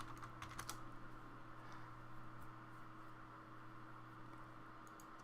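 Quiet computer keyboard typing, a few soft clustered key taps near the start, then faint and sparse over a steady electronic hum and background hiss.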